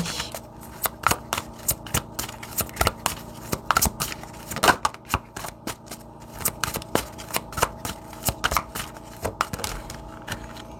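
Tarot cards are handled and shuffled close up in repeated riffling bursts and sharp flicks, uneven in rhythm, with short pauses between handlings and no talking.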